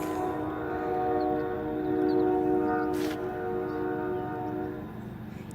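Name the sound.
passing train near a desert lake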